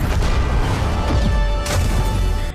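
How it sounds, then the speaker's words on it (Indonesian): A loud, thunderous animated explosion as two clashing powers collide, a dense sustained roar of crashing noise that holds for over two seconds before cutting off abruptly. "bentrok kekuatan itu pun menghasilkan ledakan yang cukup menggelegar."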